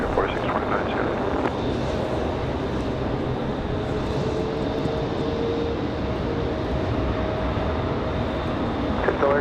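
Airplane departing runway 5 left at Raleigh-Durham airport, a broad steady engine roar held at even loudness throughout, with radio voices talking faintly over it.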